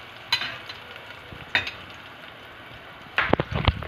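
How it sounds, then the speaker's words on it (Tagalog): Ingredients for tinolang manok are sautéed in a pan, with a few short bursts of stirring and sizzling scrapes, close up and spaced apart over a quiet background. "Gisa-gisa muna bago pinasok."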